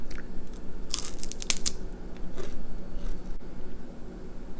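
Crisp bites and crunchy chewing on a piece of dried pollock snack, loud and close, with a dense burst of crackling bites early on followed by softer, intermittent chewing.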